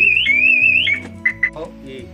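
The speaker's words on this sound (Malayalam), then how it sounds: "ചെറിയ രീതിയിൽ ഹാൻഡിൽ വലിക്കുമ്പോൾ നിങ്ങൾക്ക് കേട്ടാം ഇതാണ് ആ ബീപ്പ് സൗണ്ട്" A motorbike's anti-theft alarm beeps as the handlebar is pulled: a loud, close electronic warbling tone for about a second, then two short separate beeps and a fading chirp.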